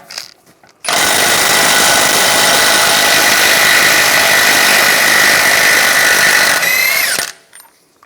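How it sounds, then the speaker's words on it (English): A loud power tool whirs steadily for about six seconds, a continuous mechanical grinding drone removing a Cadillac SRX axle nut with a 32mm socket, starting abruptly and cutting off, with quiet moments before and after. "Using a 32mm socket, we're going to take the nut off."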